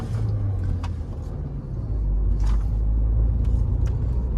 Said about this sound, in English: now it's pretty much feels like it has a dead misfire on cylinder 2 here